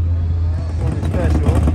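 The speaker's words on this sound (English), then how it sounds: "Looks like this Viper is getting ready to run." Dodge Viper engine at Lucas Oil Indianapolis Raceway Park drag strip, a loud, steady low rumble close by with muffled voices mixed in.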